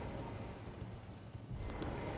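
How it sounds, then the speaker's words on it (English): A horse galloping in the game Elden Ring, steady rhythmic hoofbeats at a quiet, even level throughout. "You can still ride your horse."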